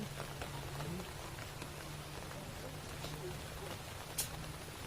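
Steady rain falls outdoors during a family gathering for a wedding blessing and turmeric ceremony, a soft continuous hiss of drops with a faint low hum beneath and scattered small knocks.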